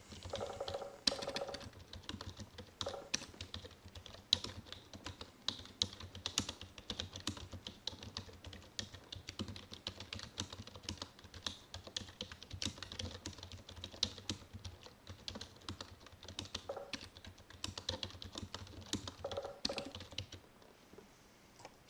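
Rapid typing on a computer keyboard during a typing speed test, with dense, continuous clicking keystrokes at an even pace for about twenty seconds and only a brief pause near the end.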